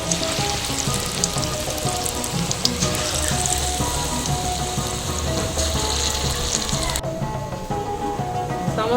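Pea bondas deep frying in hot oil give a steady, dense sizzle with crackling bubbles throughout, loud and close, dropping suddenly quieter near the end as the frying subsides or pieces are lifted out.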